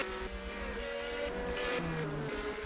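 Race cars on a narrow pit road in a stock car racing video game, their engine tones droning steadily and shifting pitch as the cars move close by, with no talk.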